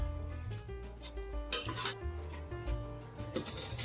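Onions cooking in a pot with a soft, steady sizzle, broken by a few brief clinks and scrapes of stirring, close and quiet.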